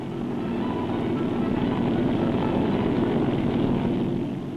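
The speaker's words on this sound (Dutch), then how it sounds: "De helikopter is maar klein en zijn laadvermogen neemt af naarmate hij op grotere hoogte moet werken." A small helicopter carrying supplies on a high-altitude expedition flies close by, its rotor and engine making a continuous, steady, loud drone that fades slightly at the end.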